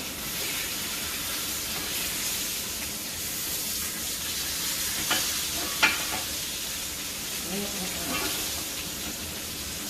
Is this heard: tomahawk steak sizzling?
yes